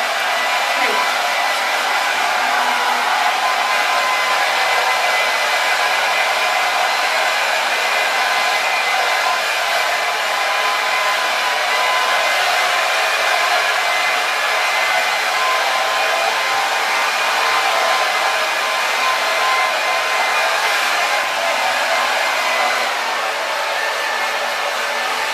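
A hair dryer blowing steadily on a dog after its bath, a loud, constant close-up whoosh of air that runs without a break for about twenty-five seconds.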